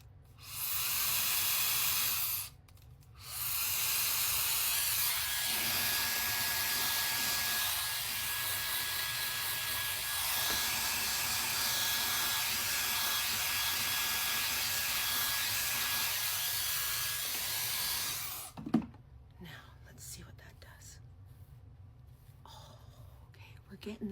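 A hair dryer blowing cool air over the bangs of a wig gives a steady close whoosh. It stops briefly after a short opening burst, then runs unbroken for about fifteen seconds and cuts off, followed by quieter handling sounds.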